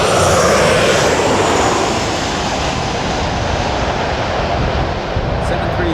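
A WestJet Boeing 737-800 at Los Angeles International Airport sends out a loud, broad jet engine roar that holds steady and close, then fades slightly near the end.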